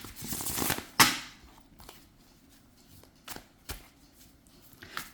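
Tarot cards being shuffled by hand, a dense riffling burst at first, then a sharp snap and a few scattered, softer card slaps and shuffles, close and quiet, with no talk.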